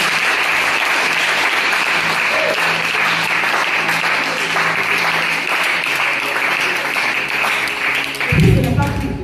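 A church congregation bursts into sustained loud applause and cheering, dense and continuous, with a voice or two rising through the crowd noise and a louder swell near the end.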